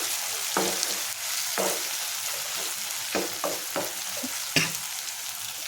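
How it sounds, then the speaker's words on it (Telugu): Dry prawns fry in a hot pan with a continuous sizzle, broken by several sharp scraping stirs of a spatula spaced a second or so apart. No one speaks. "మూత పెట్టుకుని బాగా వేపించుకోవాలి"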